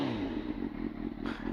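A Suzuki GSX-R sportsbike, 21 years old, idles steadily nearby with a rough, even engine note and light mechanical clatter, with no voices.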